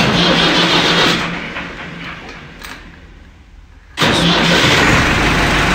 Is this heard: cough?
no